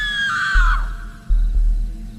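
A scream sound effect in a horror story narration rises as a loud, high shriek that slides downward and cuts off after under a second, followed by low rumbling thumps.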